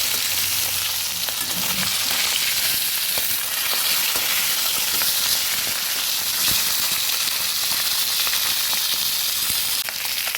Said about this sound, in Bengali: মাথাগুলো একটু পাল্টে ভেজে নেব